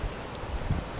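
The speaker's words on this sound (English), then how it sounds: "It's sort of windy on the coast" Wind blowing on the Irish coast, a brief steady rush of buffeting noise over the microphone.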